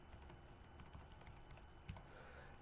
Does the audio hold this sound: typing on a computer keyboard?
yes